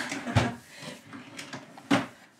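A drawer holding tarot and oracle card decks slides open, two woody thumps with a soft scraping rumble between them, close and moderately loud.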